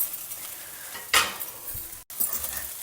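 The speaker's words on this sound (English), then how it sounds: "Stir it over a low flame so that it doesn't stick to the kadai." Thengai aval, flattened rice with coconut, stirred in a kadai over a low flame, with soft scraping and a sharp utensil clink against the pan, then continued quiet stirring.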